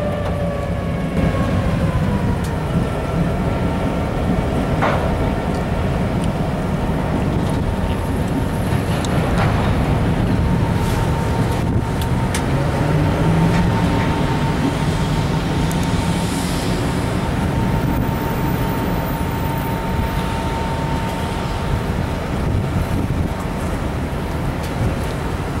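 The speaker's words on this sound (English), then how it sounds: "we got to see some of the shunting action happening" Locomotives shunt train cars at a winter rail yard, a continuous low diesel rumble with metallic squeals, clanks and a distant horn carrying over the steady drone.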